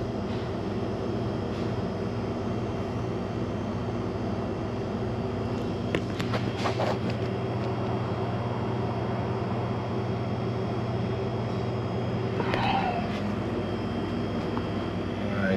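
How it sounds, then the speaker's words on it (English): Freezer compressor and evaporator fans kick on and run as a steady, broadband mechanical hum with tonal bands, continuous throughout, with brief clanks and faint background voices. "We got compressors, we got fans."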